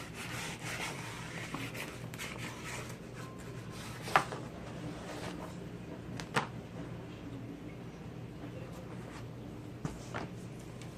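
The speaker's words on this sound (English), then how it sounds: "I'm going to use a spatula and stick it." A spatula spreads glue across an assembled jigsaw puzzle, giving soft, repeated scraping and rubbing strokes that stay quiet and close, with a couple of sharper taps.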